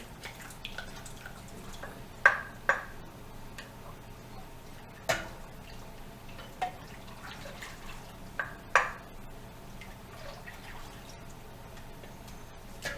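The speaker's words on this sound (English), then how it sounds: "I'm just using the hot water to try to extract all this extract from the measuring container here" Hot water rinsing malt extract out of a measuring container during ale brewing, heard as scattered close drips, splashes and clinks over a quiet background hum.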